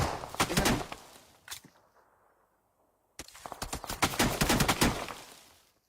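Rapid gunfire in a shooting video game, dense bursts of shots up close that stop for a couple of seconds and then resume in a long, loud volley.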